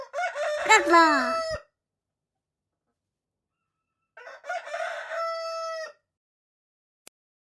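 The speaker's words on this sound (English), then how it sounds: "Cockerel." A cockerel gives two loud, clear crows, the first long and rising, then a pause of silence before a second full crow, close and alone.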